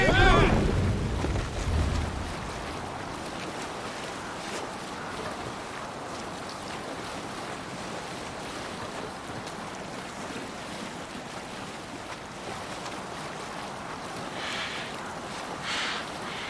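Ocean waves and wind rush steadily past a sailing ship in Assassin's Creed Valhalla, a loud burst of surf opening the scene before the sea and gusts settle into a constant wash.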